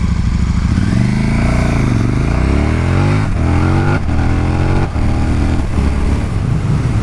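A 2017 KTM 1290 Super Duke R accelerating hard, its engine note climbing in loud rising sweeps broken by quick-shifter gear changes, a continuous close roar with no talk.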